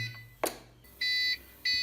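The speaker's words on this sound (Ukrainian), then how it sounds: "Півгодини пікає він на 300 ватному навантаженні." A sharp click is followed by two loud, steady electronic beeps from a LiFePO4 12 V 10 Ah battery's monitor under a 300-watt load, each about a third of a second long, evenly spaced.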